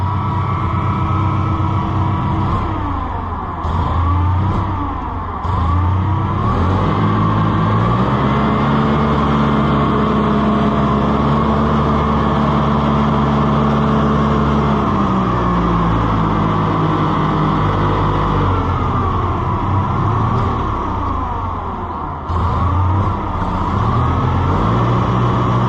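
Massey Ferguson 50 tractor engine idling steadily close by, with a continuous whine from the power steering over the low rumble; no one talks over it.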